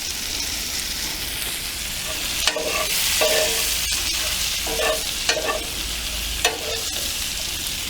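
Olive oil sizzles steadily in a hot pan while searing venison back strap, a dense loud hiss broken by a few clinks and stirring bursts.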